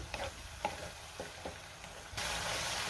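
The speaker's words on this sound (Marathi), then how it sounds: "आता 2 मिनिटं मी हा मसाला व्यवस्थित परतून घेणार आहे।" Ground masala paste sautés in oil for a bangda (mackerel) fish curry: faint, spaced spatula scrapes, then a sudden, steady, louder sizzling hiss that carries on to the end.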